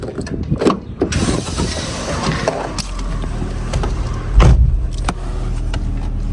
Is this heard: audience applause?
no